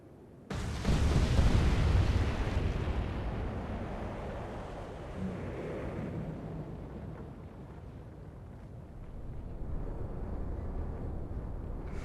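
A naval explosion from the game Atlantic Fleet, torpedo or shell fire: a sudden loud deep boom bursts in and leaves a long rumbling roar that slowly fades and then swells slightly again, with no talking.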